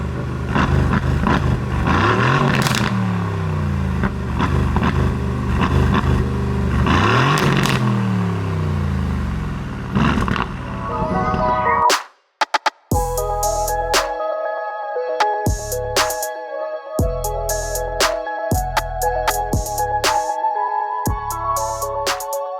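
A twin-turbo 503 bhp V8 Aston Martin Vantage revs loudly and pulls away, its engine note rising and falling through several gear sweeps for about eleven seconds before cutting off abruptly. Music follows after a short gap.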